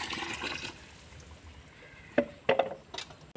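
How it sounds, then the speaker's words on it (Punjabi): Water from a mug splashes and trickles into a cement mix in a few short bursts near the end, following a quiet stretch with faint noise. "ਇਹ ਦੇਖੋ ਇੱਕ ਮੱਗ ਅਸੀਂ ਪਾਣੀ ਲੈ ਲਿਆ ਤੇ ਇਹਦੇ ਚ ਪਾਵਾਂਗੇ"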